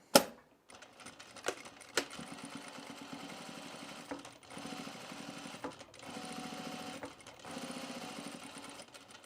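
A sewing machine stitches a seam along a jacket pocket, running in steady bursts with brief pauses between them, close and fairly loud throughout.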